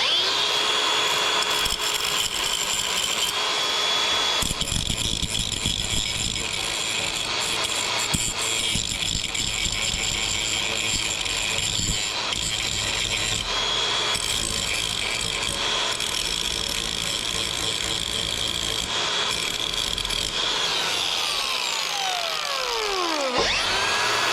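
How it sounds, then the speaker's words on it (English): A steam engine part made of cast iron is ground out with a power grinder, a steady, loud, continuous harsh whine with shifting pitch and gritty rasping throughout, close and unbroken, with no talking. "Going to grind out that, get some clean iron in there"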